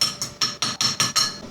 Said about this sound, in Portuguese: Depois de ponteado, aí é só retirar a casca, escovar.